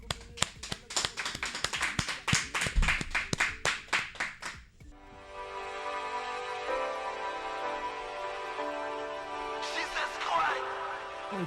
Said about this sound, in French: mesdames et messieurs, sous nos applaudissements.